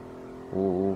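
Nissan 350Z engine in the SLRR driving game, idling quietly before revving sharply upward into a strong, steady drone while drifting on a mountain track.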